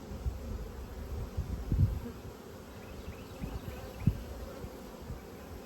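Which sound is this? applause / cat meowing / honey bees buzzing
honey bees buzzing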